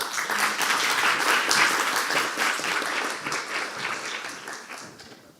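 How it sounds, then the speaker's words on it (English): Dense audience applause welcoming presenters at a live game pitch event in Liberec, a loud steady wash of many hands clapping that gradually fades toward the end. "So please welcome with big applause, Granny's Virtual Cookies."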